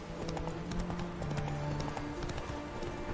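Roach, Geralt's horse in The Witcher 3: Wild Hunt – Blood and Wine video game, galloping in rapid rhythmic hoofbeats, close and continuous, alongside a steady background drone.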